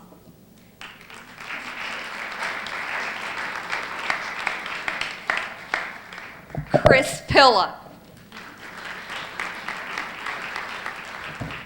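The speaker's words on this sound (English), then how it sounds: "I don't know what to tell you about applauding because you started already" An audience at a school recognition assembly applauds steadily in a large hall, the clapping carrying on under a man announcing a name over a microphone.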